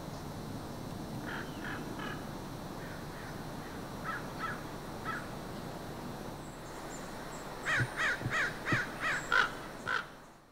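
Crows cawing outdoors: a few scattered calls early on, then a louder run of about seven rapid, harsh caws near the end, with a quiet hum of background noise throughout.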